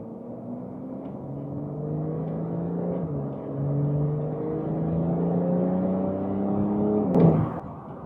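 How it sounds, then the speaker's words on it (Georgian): A Porsche 992 Carrera GTS accelerates steadily with a rising engine whir through the gears, then a sharp burst of released air from the blow-off valve near the end, heard from inside the car. "ეს blow off-ის ჰაერის დაცლის ხმა"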